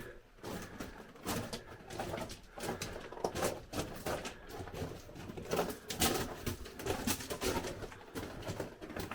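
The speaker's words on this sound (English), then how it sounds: "I think that's a bird, not a bat." A bird calls with repeated cooing notes inside an abandoned underground mine, echoing off rock walls, mixed with rustling and footsteps over a steady background.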